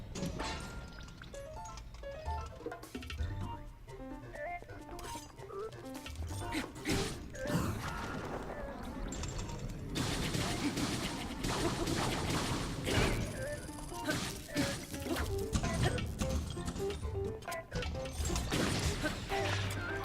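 A knight's broadsword strikes a Talus, a rock creature in the video game Breath of the Wild, amid dense game audio with crashing impacts, clanks and rumbling debris mixed with music.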